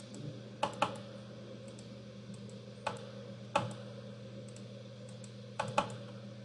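Sharp, close keyboard Enter presses and mouse clicks land in quick pairs, spaced a few seconds apart over a steady low electrical hum, with no voices.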